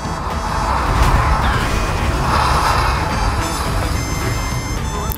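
A supercar in GTA smashes into something amid a noisy game soundscape, a loud crash followed by rumbling engine and debris noise, with faint game effects and beeps.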